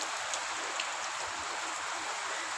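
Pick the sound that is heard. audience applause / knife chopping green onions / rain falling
rain falling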